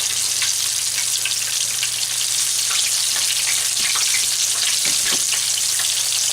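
Chicken frying in hot oil, a loud, steady sizzle with scattered sharp pops and crackles throughout, no voices.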